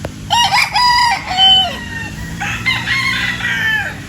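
Roosters crowing on a chicken farm raising hatch lines, with two long cock-a-doodle-doo calls in a row, loud and close, and background farm clucking underneath.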